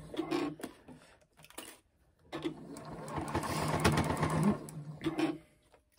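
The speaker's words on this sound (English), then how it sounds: "I'm going to lock this with another back stitch, the end." A sewing machine back stitches a small chick pincushion in quick bursts: a short rattle, a pause, then a longer steady run of stitching that fades out, close by and with no talk.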